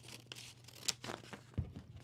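Tape is torn off for a costume arm piece, producing short ripping and crinkling bursts close by, including a sharp tear and a low thump, with no talking.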